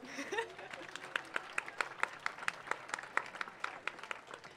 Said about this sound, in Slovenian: kar zaploskajte mu